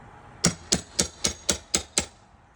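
A small pry bar strikes a mobile home door seven times in an even, steady rhythm to work it loose, each knock sharp and close with a short ring, and the blows come alone with no talk.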